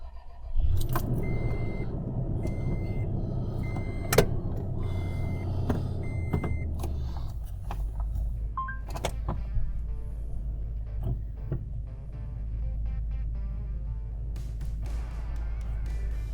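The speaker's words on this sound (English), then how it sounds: "getting in, firing the truck up" Someone climbs into a Toyota Tundra pickup: keys jangle, the door thuds shut, clicks and beeps sound inside the cab, then the engine fires and settles into a steady low idle that runs to the end, close by, with no talking.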